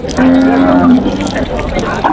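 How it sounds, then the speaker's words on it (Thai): Cattle moo loudly and close by at a cattle and buffalo market in Som Poi, a long low bellow followed by more calls amid crowd murmur and background voices. "มีแต่วัวงามครับผมตลาดส้มปล่อย"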